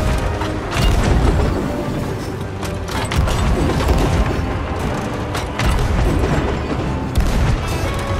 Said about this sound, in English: Chain shot's coming.